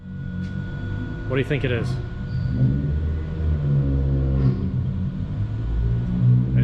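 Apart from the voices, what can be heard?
Mitsubishi Evo with titanium exhaust revving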